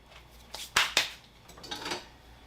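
A carne asada tortilla lands in a pan with a couple of sharp, close clattering hits, followed by a softer scrape and shuffle, with no voices.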